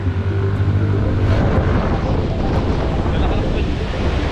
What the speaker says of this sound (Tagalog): Mapapansin nyo, maririnig nyo yung hangin. Sobrang lakas kasi.